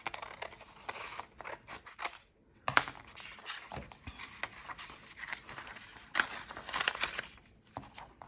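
Small scissors snip through a brittle old paper page with quick crisp cuts in short bursts, close and quiet, with rustling and crinkling of paper between snips.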